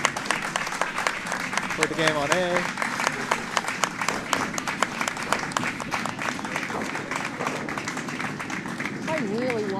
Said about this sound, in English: And there's that applause we were talking about